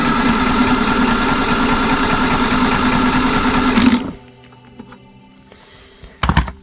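Briggs & Stratton 550ex push mower engine cranking over with the shutoff bail closed, a loud steady mechanical whir for about four seconds that stops abruptly, followed by quiet clicks and a brief rattle.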